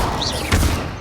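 An Incendio fire spell cast in the Hogwarts Legacy video game on PS5 makes a single loud, bassy burst over a dense, sustained din of game sound.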